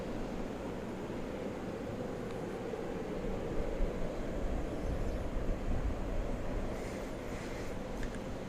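An American Airlines Airbus A321 passing at DFW airport, a broad, steady jet roar that swells slightly toward the middle and stays fairly distant and even throughout.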